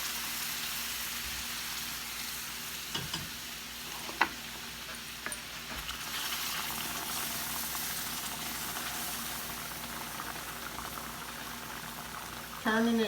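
Beef broth bubbles and simmers in a pan for Swedish meatballs, a continuous close boiling hiss with a few scattered clinks of utensils throughout.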